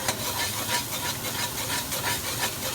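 A spatula stirs brown gravy in a hot pan as water is added, giving a steady hissing, bubbling sizzle with rhythmic scraping strokes, fairly close and with no talking.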